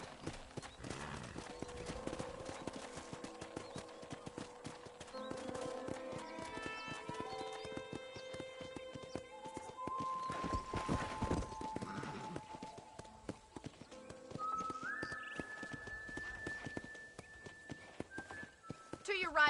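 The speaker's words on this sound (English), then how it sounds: "I picked out a fine horse for you." Horse hooves clip-clop steadily in Red Dead Redemption while the horse whinnies now and then, with a voice talking over the ride and gentle music behind it.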